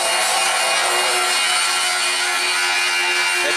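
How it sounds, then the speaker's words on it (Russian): Abrasive grinding or wire-brush cleaning of weld seams on steel plates for a cable-stayed bridge, a steady, loud, continuous bright rasping scrape with no pauses and no voices. "Теперь их уже начисто зачищают."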